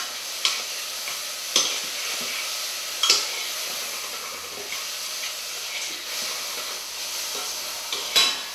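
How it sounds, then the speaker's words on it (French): A pan deglazed with soy sauce while cooking crispy sea bass gives off a steady, hissing sizzle with a faint steamy edge, punctuated by a few light utensil taps. "je vais déglacer avec un peu de sauce soja"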